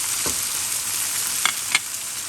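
Pomfret fish stir-fries with chili in a hot pan, giving a steady sizzle broken by a few sharp scrapes of the spatula, close and loud.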